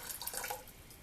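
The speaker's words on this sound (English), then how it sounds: "and put in my cold water there." Cold water poured into a jar of garlic for fermenting, a brief splashing trickle near the microphone that fades within about a second.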